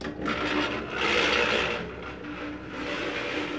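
Electric grain mill grinding chicken feed, running steadily with a continuous whirring, rasping roar that swells and eases slightly, close up and alone without talk.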